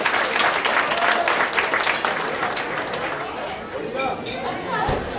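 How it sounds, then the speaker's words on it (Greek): Audience applause at the annual dance of the Orma women's association in Almopia, a dense wash of many hands clapping at steady loudness, with crowd chatter and a few glassy clinks mixed in. "Ένα χειροκρότημα έτσι στις γυναίκες της Όρμας."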